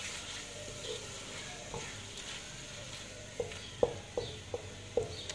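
Bhindi masala of okra with tomato, salt and chilli sizzles steadily in a pan, with a few sharp spoon taps and scrapes clustering near the end; no one talks.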